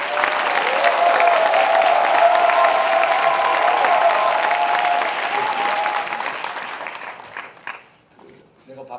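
A congregation at a Korean SFC retreat's evening worship service breaks into loud, sustained applause with some cheering, holding steady for about six seconds before thinning out and dying away, with a voice speaking at the end.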